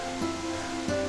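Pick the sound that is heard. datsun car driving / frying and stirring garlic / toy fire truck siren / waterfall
waterfall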